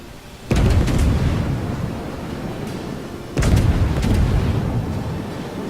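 Warship guns in a World of Warships naval battle fire two heavy salvos, each a loud sudden boom followed by a long rumbling roll, spaced about three seconds apart.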